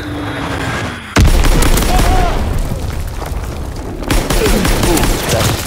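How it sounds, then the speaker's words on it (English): Enemy bomb explosions in Call of Duty: WWII, two sharp, heavy blasts striking close and loud, each followed by rumbling debris and crackling gunfire, with voices heard faintly underneath. "Enemy bomb incoming."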